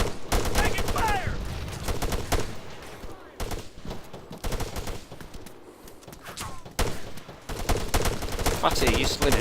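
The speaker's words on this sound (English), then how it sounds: "Under fire! Taking fire! Taking fire!" Video game gunfire crackles in repeated bursts and volleys of shots, loud and close, mixed with shouting voices talking over the battle.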